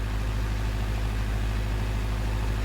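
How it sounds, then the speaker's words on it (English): A tractor engine runs steadily at about three-quarter throttle, driving a hydraulic pump under load. The drone is loud, continuous and dense, with a strong low rumble and no pauses or voices. "He brought the engine up to about 3/4 throttle"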